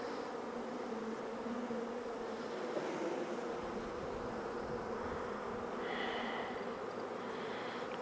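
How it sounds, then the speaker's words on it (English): Honey bees at an open hive during a queen release, a steady dense buzzing hum that fills the whole stretch at moderate, close range with no talk. "Good number of bees"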